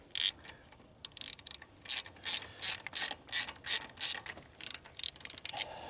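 Hand ratchet backing off 10 mm bolts on a Grand Am fuel pressure regulator, a run of quick clicking bursts repeating close by, with short pauses between strokes.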